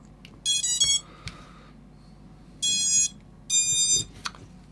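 Sharp electronic beeps from a drone's speed controllers powering up on an ImpulseRC Micro APEX FPV quad sound in three short bursts, a quick tone sequence, then a pause and two longer tonal chirps, with light handling noise between.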